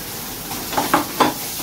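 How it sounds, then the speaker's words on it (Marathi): Garlic frying in hot oil for a Konkan-style crab dish, a soft steady sizzle with a few brief stirring scrapes close by. "सुरुवातीला लसूण टाकली म्हणजे तेलामध्ये लसूण कढवून घेतली"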